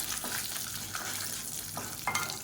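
Dried red chillies frying in oil in a pan give a steady, busy sizzle, with a few soft scraping stirs on top.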